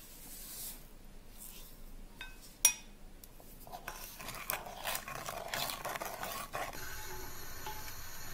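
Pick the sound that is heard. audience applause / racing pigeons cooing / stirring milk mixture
stirring milk mixture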